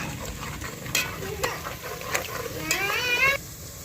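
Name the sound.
onions frying and being stirred in a pan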